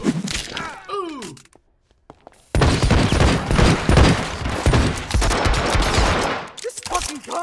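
Dense, loud bursts of gunfire from the stealth action game Hitman: Absolution, with a short harsh start and a quiet gap before a sustained rattling barrage of rapid shots that runs to the end.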